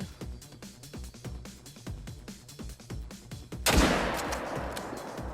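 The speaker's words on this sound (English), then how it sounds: "I guess let's shoot it." A single sharp gunshot rings out in a hunting video game after a run of regular footstep-like thuds, followed by a decaying reverberant tail.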